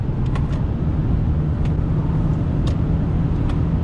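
A 2020 Toyota Hilux Revo Rocco 2.8 4WD four-door pickup accelerates, its engine a steady loud rumble with road noise from inside the cab, no talking.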